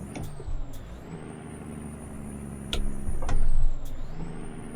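A heavy truck engine in American Truck Simulator revs on the Dalton Highway, a steady low diesel drone that swells louder toward the end, with short hissing bursts over it and no voices.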